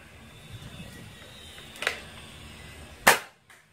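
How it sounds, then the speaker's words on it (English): A GUIBAO X2 Blaster Air H20 toy gun fires a bullet: a sharp, loud pop near the end follows a smaller click earlier, over a quiet indoor background. "when you shoot the bullet, you will pull this and bang,"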